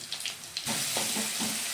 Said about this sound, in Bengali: আদা রসুন পেঁয়াজ ভাজা হয়ে গেছে